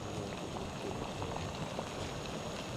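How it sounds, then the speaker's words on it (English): Water at a rolling boil in a flux-ring pot on a backpacking stove, giving a steady, soft, bubbling hiss that continues without a break. "rolling boil"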